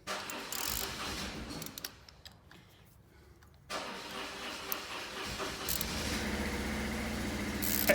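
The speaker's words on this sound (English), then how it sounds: "George's bike started." A BMW motorcycle starts in the background of a workshop where an R 1200 GS cylinder head is being torn down, with a brief starter crank followed by a steady idling rumble that continues to the end.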